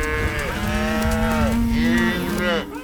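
A cow on a cattle ranch moos loudly and up close in one long, drawn-out call that rises and then falls. No other voices are heard.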